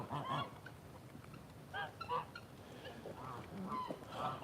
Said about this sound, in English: I'll let these guinea birds out